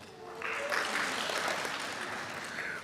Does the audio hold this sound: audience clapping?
yes